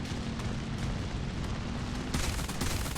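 Heavy, rumbling gunfire from a teammate's aircraft in War Thunder blends into a dense, continuous roar with dull bursts, loud and close over engine drone.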